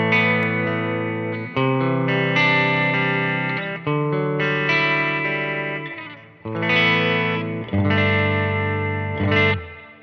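Schecter PT electric guitar played through its bridge pickup alone, a bright, Tele-style tone with a distorted, effected edge: sustained chords and riffs strummed in several phrases, loud and up close with no talking.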